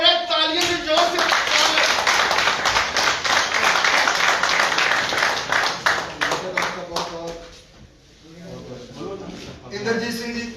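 Loud, dense clapping and applause from an audience at a political party event, sustained for several seconds before briefly fading and picking up again, with voices mixed in.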